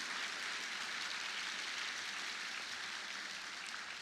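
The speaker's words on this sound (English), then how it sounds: "I think we should all give a round of applause to thank them for getting us through the tough times" Steady, soft, hissing applause from a graduation audience at a law school commencement ceremony, spread across the room without breaks and without any talk over it.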